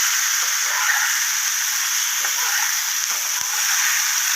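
Potatoes and cabbage fry in a pan under a loud, steady hiss of sizzling, with faint occasional scrapes and a soft knock as they are stirred.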